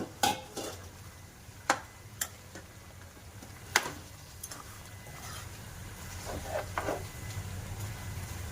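Onion, ginger and garlic paste stirred in a pan, with several sharp metallic clinks of a spoon against the rim over a low, quiet sizzle, close and without talk.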